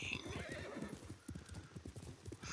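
A horse gallops in the video game Ghost of Tsushima, with a fast, steady drumming of hoofbeats close by and a brief high whinny near the start.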